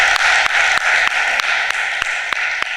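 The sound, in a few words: audience applause at union congress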